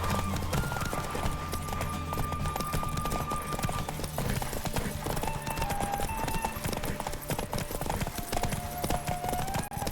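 Rapid hoofbeats of a galloping horse in The Witcher 3: Wild Hunt video game pound on steadily, with music playing and a voice briefly heard in the background.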